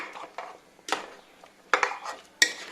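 A spoon stirs mango pulissery, a Kerala-style curry with coconut, in a cooking pot, giving scattered scraping clinks and a few sharper knocks against the metal, close and moderately loud with no talk.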